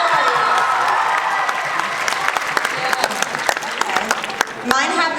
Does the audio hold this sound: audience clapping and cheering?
yes